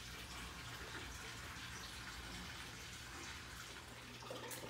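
A 125 aquarium tank fills with water, a steady broadband rush and splash of pouring water that runs continuously and fairly close throughout.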